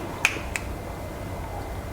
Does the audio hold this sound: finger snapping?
yes